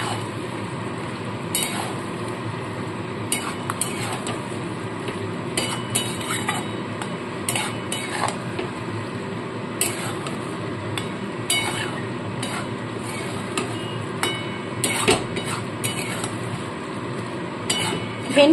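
A utensil stirs partly fried okra into spices in a pan for dahi bhindi, making repeated metallic clinks and scrapes at an uneven pace over a steady kitchen background for nearly twenty seconds.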